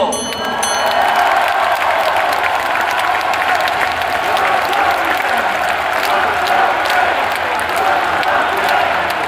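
Audience applause at a party convention, a large hall crowd clapping loudly and continuously with scattered cheers, dense and sustained for the whole stretch.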